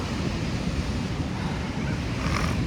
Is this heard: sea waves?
yes